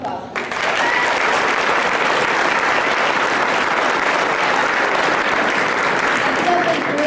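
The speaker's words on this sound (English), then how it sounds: "Give these girls a round of applause." A crowd in a school gym at a junior high awards night and eighth grade commencement gives a loud, sustained round of applause for a group of girls, dense clapping that continues without pause.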